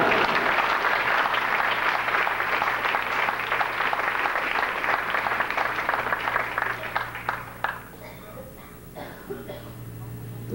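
An audience in a Houston hall applauds loudly, a dense wash of clapping that holds steady for several seconds, then thins and tapers away, leaving a quieter room with a low steady hum.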